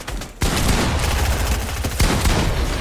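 Rapid gunfire in a Fortnite match, which starts abruptly after a brief lull and continues as a loud, dense barrage of close shots, with no voices.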